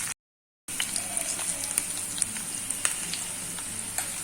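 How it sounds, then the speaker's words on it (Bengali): Gulsha fish frying in a pan of oil, a steady close crackling sizzle with scattered pops after a brief silent gap at the start, with no voices. "মাছগুলোকে আমি ভেজে নিয়েছি।"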